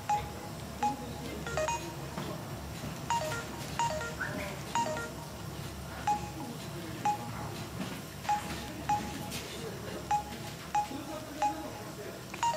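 Keypad dialing tones from a Samsung U900 Soul phone: a series of short, evenly spaced beeps, fairly faint over a quiet background.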